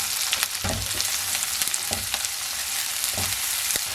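Steady, dense sizzling of finely chopped onions frying in hot oil, with a few soft stirring bumps and clinks throughout, close and moderately loud.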